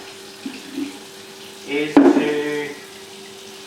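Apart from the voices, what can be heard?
fermenter being filled with tap water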